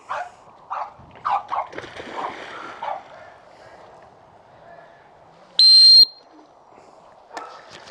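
A single loud, sustained dog training whistle blast sounds near the end of a retriever swim-by drill, after scattered faint vocal sounds and brief noises, with a short sound following the blast.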